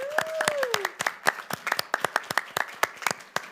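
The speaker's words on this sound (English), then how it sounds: "Would it be appropriate we applaud for them?" A small audience claps at a county board of supervisors meeting, sparse, distinct hand claps in an uneven rhythm with a brief voice over the start.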